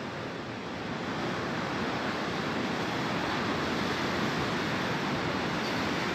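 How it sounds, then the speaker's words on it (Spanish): Ocean waves pound a beach at Nuevo Vallarta during Hurricane Willa, a dense, continuous roar of surf mixed with wind noise, loud and steady throughout with no voices. "cómo luce esta playa, el oleaje que se aprecia"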